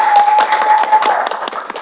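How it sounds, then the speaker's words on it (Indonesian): Brisk clapping from a crowd, a dense patter of hands at close range that continues evenly throughout. "Tepuk tangan."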